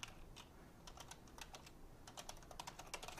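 Someone types on a computer keyboard with quick, light, irregular keystroke clicks in short bursts. The sound is quiet and close, with no talking.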